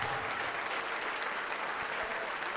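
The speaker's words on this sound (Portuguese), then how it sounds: "Vamos aplaudir, igreja." A church congregation claps together in a worship service, a steady wash of many hands that stays even and moderately distant for the whole short stretch.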